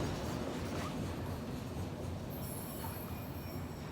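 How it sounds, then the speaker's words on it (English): A train rolls by on a railway track where double track narrows to single, a steady loud rumble of wheels and cars with some high metallic squeal toward the end. "And there's the end of the train."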